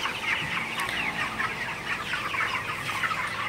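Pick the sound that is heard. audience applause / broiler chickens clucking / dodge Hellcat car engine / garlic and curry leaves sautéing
broiler chickens clucking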